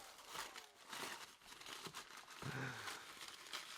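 Packaging around a Casio Oceanus watch being ripped open by hand, a steady run of close crinkling and crumpling with brief tearing noises throughout, fairly quiet and without talk.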